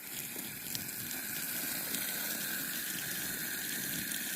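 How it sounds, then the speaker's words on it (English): Water spraying steadily onto a smoldering sawmill fire outdoors, a continuous broadband hiss and gush with no breaks, fairly quiet and alone, no talking. "Soaked down with some water."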